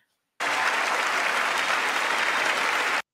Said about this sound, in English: This interrupted clapping is way too annoying and time consuming